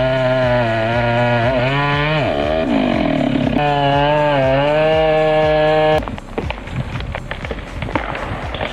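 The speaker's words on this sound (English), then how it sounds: "What a beautiful chainsaw sound." A chainsaw cutting a tree during logging, its loud close engine droning and rising and falling in pitch for several seconds before breaking into a rougher, choppy cutting roar.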